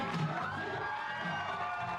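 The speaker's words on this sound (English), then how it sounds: "The crowd loves their new First Lady as they celebrate at Houston's 5115 restaurant" A party crowd cheers and whoops at a reveal celebration inside Houston's 5115 restaurant, a sustained, lively swell of many voices near and loud.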